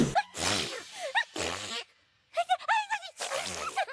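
A cartoon pony character sneezes several times in quick succession, with animated voices and sniffing sounds between the bursts. A brief pause comes midway.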